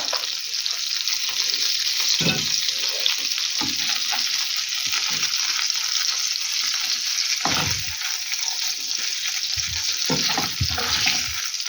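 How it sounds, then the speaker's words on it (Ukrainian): Steady, close sizzle of fish frying in hot oil in a pan, crackling continuously with occasional louder pops and clinks. "обсмажую"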